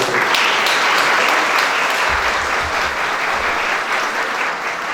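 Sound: audience applause for the team

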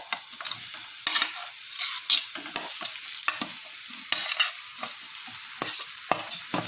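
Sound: cut potatoes added and stirred in frying pan

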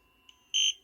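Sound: FPV goggles power-on beep

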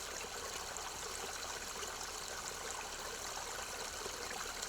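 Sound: clear mountain stream flowing

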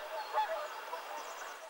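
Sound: swans calling on water near village

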